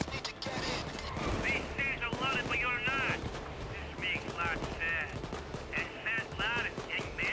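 Rapid bursts of gunfire aimed at shields in the heist shooter Payday 2, repeated volleys through the clip with a voice talking over them.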